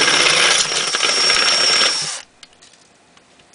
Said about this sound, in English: Try and drill it straight towards the hole you put in earlier.